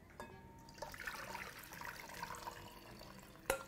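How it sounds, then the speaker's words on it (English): Water poured out of a pan over sweet potatoes for spiced fries, a steady splashing, trickling flow for a few seconds that ends in a sharper clatter. "we're going to proceed to just empty the same water into the potatoes on the side"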